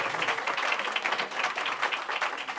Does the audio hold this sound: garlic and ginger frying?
no